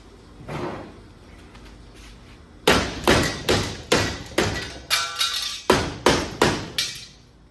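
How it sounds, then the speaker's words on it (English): Someone hammers at the passenger-side step plate of a 1958 GMC 100 truck: a few scattered taps, then about ten sharp, evenly spaced metallic blows close by. "hammer that out of the way"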